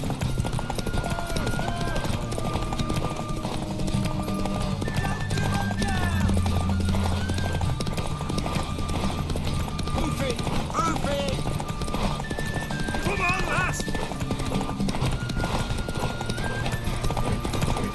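Hooves clatter in a constant rapid gallop under layered game music and effects in The Witcher 3: Wild Hunt, with a horse whinnying and voices calling out over the din.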